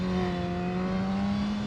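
Sportbike engine droning at steady revs while engine braking through a corner on a racetrack, a strong, close, constant whine with clear harmonic tones and wind rush, no voices.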